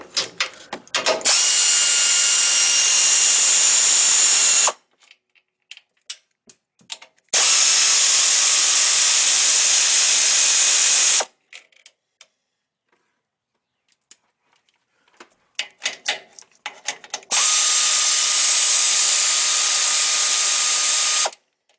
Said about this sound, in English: So I'm just going to hit this with my air ratchet.